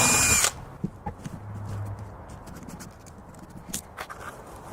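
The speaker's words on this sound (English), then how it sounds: "We're going to drill these holes, put the screws in, but we'll come back and put RTV." A power drill bites briefly into parts of a 2 m/70 cm vertical dipole antenna as screw holes are drilled, one loud short burst followed by quiet scraping and handling noises.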